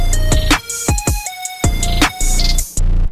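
A bright lead synth melody for a K-hip-hop beat plays a quick, bouncing line of plucky notes over a deep bass, loud and upfront with no voices.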